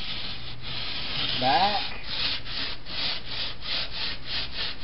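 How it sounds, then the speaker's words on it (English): A rasp scraping along the fresh knife-cut edge of a drywall sheetrock panel, a steady rough rubbing in repeated strokes, close and moderately loud, with a brief voice over it. "this is a fresh cut edge, and what I'm going to do is rasp it"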